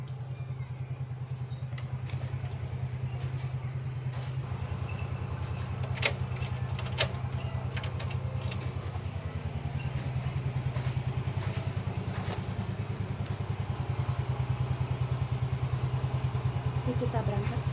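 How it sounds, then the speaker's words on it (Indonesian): A motorcycle engine idling after warming up, a steady low drone running nearly unchanged throughout at moderate level, with occasional light clatter and faint background sounds. "Yuk, motornya udah dipanasin."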